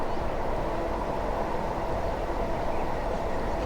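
A Class 460 electric train in Train Sim 2021 crosses a viaduct on the Gatwick line, giving a continuous low rolling rumble with a steady hiss of wheel and track noise and no speech.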